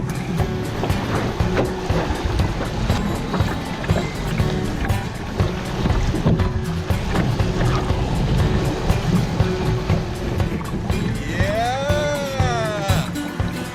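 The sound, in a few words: river rapids under a canoe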